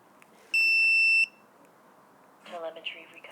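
A steady high-pitched electronic beep from a VIFLY Finder 2 drone alarm holds for under a second, then stops, followed by faint chirpy sounds and low background noise.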